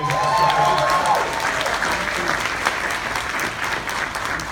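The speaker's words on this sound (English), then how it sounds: "Let's give her a round of applause for that" An audience at a compensation plan training session gives a loud, sustained round of applause, with a voice speaking over the clapping at first before the dense applause carries on alone.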